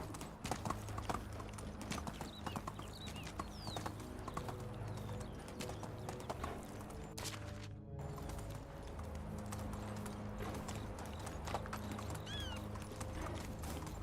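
Horse hooves clip-clop steadily while riding in the Medieval Dynasty video game, a continuous close trotting rhythm with an occasional faint whinny over a steady background bed.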